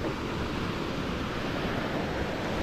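Sea waves washing in a broad, steady roar of surf, continuous and fairly loud, mixed with wind rumble against the microphone and no voices.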